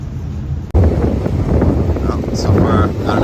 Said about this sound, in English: all of a sudden a big gust came